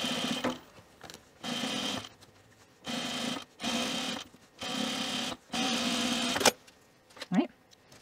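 Sewing machine top stitching a fleece pullover, running in several loud steady bursts of about a second each, separated by short pauses, with a few softer handling noises near the end.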